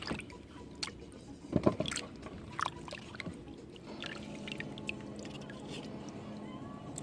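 Water splashes and gurgles into a cooking pot over an outdoor fire, with a burst of pouring and then softer drips and bubbling.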